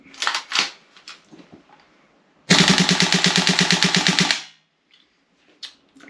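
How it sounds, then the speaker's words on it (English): A Tokyo Marui AKM gas blowback airsoft rifle fitted with a heavy piston fires a loud, rapid full-auto burst of about two seconds, with brief clicks and handling noise before and after. "Let's flick it on to full auto, and let's just see what it's doing."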